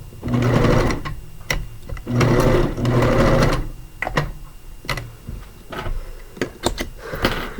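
A sewing machine stitches along the side of a turned cloth diaper during final stitching, running in three sustained bursts followed by shorter runs and sharp mechanical clicks, close and loud with no talk.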